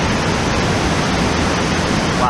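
Waptus Falls roars where a sizable mountain river pours over a cross-cutting rock ridge, a loud steady broadband rush heard up close with no voices.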